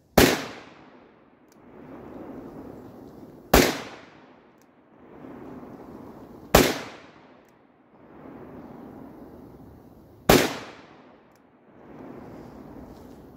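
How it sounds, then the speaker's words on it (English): Four loud, booming shots from a .500 Smith & Wesson Magnum revolver with 350 grain Underwood ammunition at a range, spaced about three seconds apart, each followed by a rolling echo. "that was 500 Smith & Wesson Magnum"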